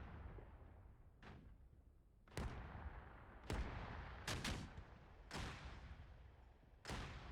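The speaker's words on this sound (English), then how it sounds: "Okay, the mortars are going off." Mortar fire in the DCS combat flight simulator game lands as a series of about eight sharp booming blasts at irregular intervals, some in quick pairs, over a low steady background rumble.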